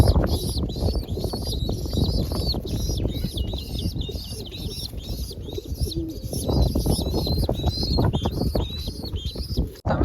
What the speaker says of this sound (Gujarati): એટલે કબૂતર બધા ઉડી જાય એટલે પાછા આવી આવશે ઉપર પહોંચે.